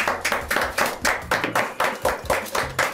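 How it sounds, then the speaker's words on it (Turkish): Rhythmic group clapping in time on a cooking competition show, with about a dozen evenly spaced loud claps close to the microphone, as if clapping along to a beat. "Alkış"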